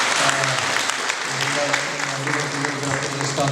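An audience applauds at a presentation of a web portal, a dense, steady clapping that fills the room, with some voices or tones running underneath throughout.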